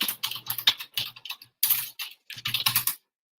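Fast typing on a computer keyboard while entering a web address, close clattering bursts of keystrokes in several quick runs separated by short pauses, then silence.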